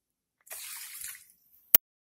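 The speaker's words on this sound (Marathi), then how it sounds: "कुकरच्या डब्यामध्ये तांदूळ व डाळ पाण्याने दोन वेळा स्वच्छ धुवावे." Rice and lentils are rinsed with water in a pressure cooker container, giving a brief splash and swish of water lasting under a second, then a single sharp knock, close by with no talk.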